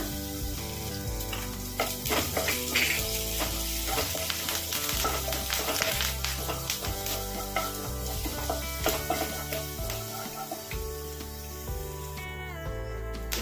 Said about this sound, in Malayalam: കടുപൊട്ടി ഇഞ്ചി വെളുത്തുള്ളി പേസ്റ്റ് കറച്ചതാണ് പേസ്റ്റല്ല കറച്ചത് ചെറുതായി തന്നെ കരിയാപ്പല